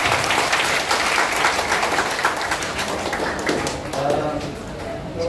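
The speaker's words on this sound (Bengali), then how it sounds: "সকলের উদ্দেশ্যে আমরা একটা জোরে করতালি দিই" An audience at a Bengali senior debate competition breaks into loud, sustained clapping that fills the room, with taps and thumps scattered through it and voices faintly mixed in.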